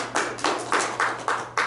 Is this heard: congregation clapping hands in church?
yes